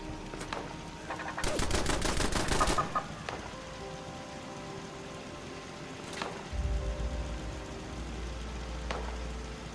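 Defensive turrets firing in Fallout 76, with a rapid automatic burst of about a second followed by a few scattered single shots and faint clucking, all fairly quiet and with no talk.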